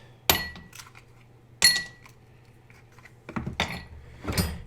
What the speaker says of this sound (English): Put a little ice in the glass.